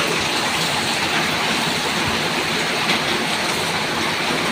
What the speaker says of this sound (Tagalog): Ang lakas ng ulan talaga mga idol